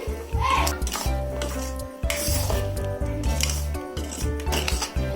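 A spoon stirs a tangy raw-mango side dish in a metal pot, giving repeated scraping and clinking strokes against the pot with a faint simmering sizzle beneath, close and fairly busy, no talk.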